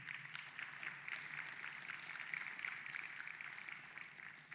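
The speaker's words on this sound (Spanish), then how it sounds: "dale un aplauso al Señor." Congregation applauding during a Spanish-language church sermon, a soft, distant, even patter of many hands clapping throughout, fairly faint and without speech over it.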